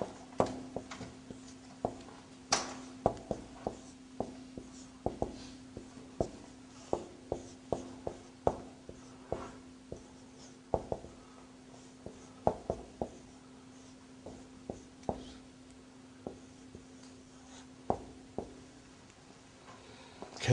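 Pen or chalk writing an Arabic verse on a board: a steady run of short tapping and scratching strokes, close and regular, with no talk.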